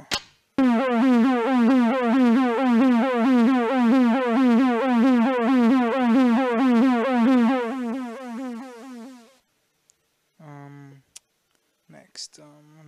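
Emergency alarm preset on a Casio SA-20 keyboard gives a loud, rapid warbling electronic tone that pulses continuously for about eight seconds before cutting off, after which someone briefly speaks.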